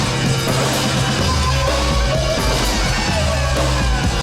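The drum beats of two songs play layered together, making a busy, driving groove of repeating kick and snare hits under a dense, chaotic mix for several seconds.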